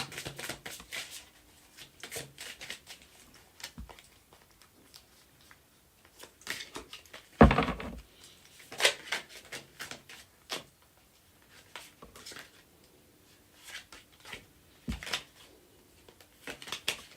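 A tarot deck is shuffled by hand in quiet surroundings, with short bursts of riffling card flutter separated by pauses, plus one louder scrape or thump midway.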